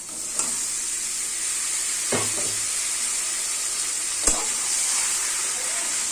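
Spice paste frying and being stirred in a pan for a prawn dish, a continuous bright sizzle with a few sharp spatula scrapes and clicks against the metal, close and steady, no one talking.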